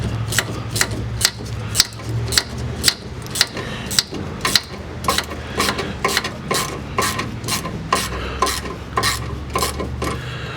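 Ratchet working a fastener loose on the fuel filler neck of a 2005-2010 Jeep Grand Cherokee 3.7L, producing a steady run of close, sharp metallic clicks at an even rhythm, about two per second, with no talking.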